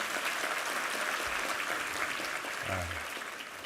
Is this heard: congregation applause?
yes